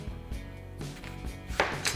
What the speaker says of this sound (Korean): 다음은 양파를 썰어줄게요